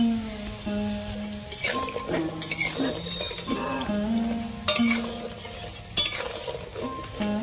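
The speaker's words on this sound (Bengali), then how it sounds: "পকোড়াগুলো আমার ভাজা হয়ে গেছে" Bete shaak pakoras frying in hot oil, a steady close sizzle with repeated stirring scrapes and light clinks of utensil against the pan throughout.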